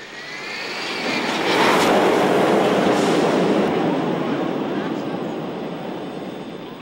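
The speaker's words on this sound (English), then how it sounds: "As the train falls back to the ground, the track twists an unbelievable 270 degrees." A roller coaster train at Cedar Point roars along twisting track, a broad rushing rumble that builds, peaks and slowly fades, with voices faintly mixed in.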